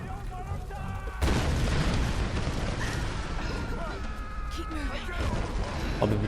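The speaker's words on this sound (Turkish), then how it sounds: "Bütün bu patlamanın sebebi biz miyiz cidden ya?" A loud, sustained rumbling explosion in the video game Tomb Raider bursts in suddenly and keeps roaring, with game-like booms and crackles layered over a continuous low-frequency rumble.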